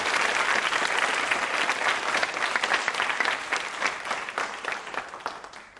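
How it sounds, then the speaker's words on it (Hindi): Audience clapping at a college quiz show event honouring a guest, thick continuous applause from a large crowd that holds strong then thins slightly toward the end. "उनके सम्मान में आप जोरों से तालियां बजाएं"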